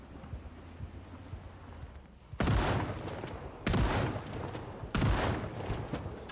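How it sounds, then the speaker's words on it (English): Three loud, booming shotgun blasts in the LV Quarantine Zone of a video game, each a sharp crack with a roaring tail, spaced over a second apart after a quieter stretch of background noise. "Get the shotgun back out."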